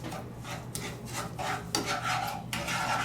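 Caramel is stirred in a pan with a steady rasping, scraping rub of the utensil across the pan bottom in repeated strokes, close and moderately loud, with no talk.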